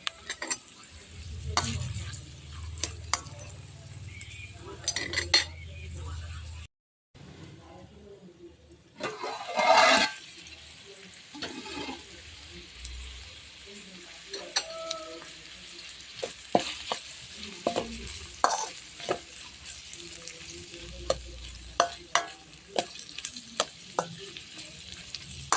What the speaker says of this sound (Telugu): ఆనియన్స్ కొద్దిసేపు ఆయిల్ మగ్గనిద్దామండి.